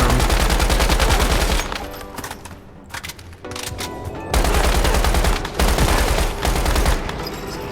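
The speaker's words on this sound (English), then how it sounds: "I had to be very careful on the angles I was shooting at it" Gunfire in the video game Once Human, loud rapid bursts of automatic shots with short pauses between volleys, close and dense.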